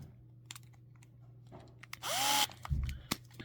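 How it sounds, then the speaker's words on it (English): A small screwdriver or drill drives screws into a plastic McDonald's Invisible Mario toy, a brief whirring burst with light clicks and taps of handling around it, close and fairly quiet. "just put the other 2 screws in."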